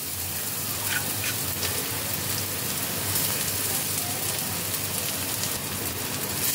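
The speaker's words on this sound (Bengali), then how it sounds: "পেঁয়াজ, আদা, রসুন সবগুলোকে একসাথে ভালো করে ফ্রাই করে নেব।" Chopped onion, ginger and garlic fry together in a pan with hot oil, giving a dense, steady sizzle that holds at an even level from start to finish.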